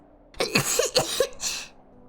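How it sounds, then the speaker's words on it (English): A short burst of harsh coughs and throat-clearing sounds, several quick hacking bursts close up, with no talking, from a coughing fit in the video game Hello Charlotte. "I lose my balance in a coughing fit"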